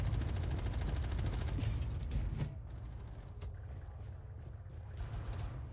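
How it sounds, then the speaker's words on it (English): Rapid gunfire in a Rainbow Six-style video game round rattles in dense bursts over a low rumbling background, loud for the first couple of seconds, then thinner scattered shots. "It appears I still hear gunshots."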